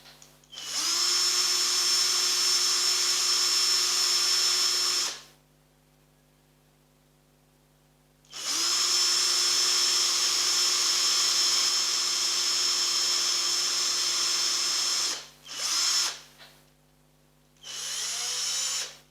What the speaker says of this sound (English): Right, so that's the holes drilled.